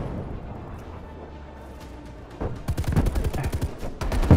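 Artillery fire in Call of Duty Black Ops Cold War: a rapid string of booming impacts kicks in halfway through after a quieter stretch and stays loud to the end, with voices in between.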